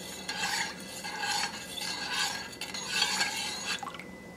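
A thickening sauce for a Constantine-style Algerian dish simmers in a pot while a utensil stirs it, making rhythmic scraping strokes over a soft bubbling sizzle, close and fairly quiet.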